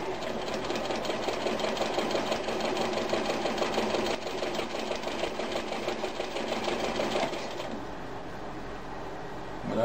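A vintage Kenmore 148 sewing machine runs close by with a continuous buzzing motor hum and rapid rhythmic needle clatter. Its pitch eases slightly as it slows near the end.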